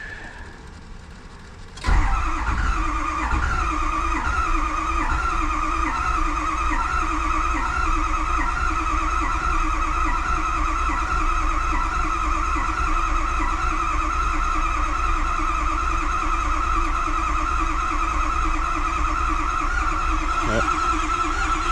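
A Ford 6.0 Powerstroke diesel, just rebuilt after stand pipe, oil cooler and turbo work, cranks and catches, then settles into a loud, steady idle that holds for the rest of the stretch.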